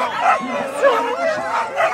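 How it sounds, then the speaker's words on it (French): Sled dogs yipping and barking at a race start, a steady run of excited overlapping barks and whines close by, loud throughout the short stretch. "mais le chien toujours devant, toujours en même cadence, rien ne peut les effrayer"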